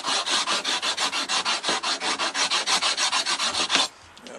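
A file rasps back and forth across a stone Decora rocker switch plate in a steady run of about twenty close, loud strokes, ending abruptly.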